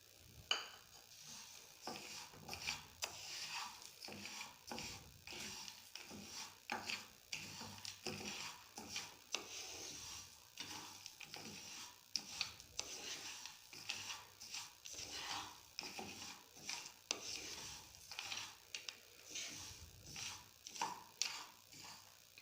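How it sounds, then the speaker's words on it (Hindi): Flaxseed and fox nuts (makhana) being dry-roasted in a pan, giving a steady run of small dry rattles, clicks and scraping stirs that repeat closely throughout, fairly quiet and with no one talking. "एक पैन लेके उसमें आप अलसी डाल लें, उसको भून लें।"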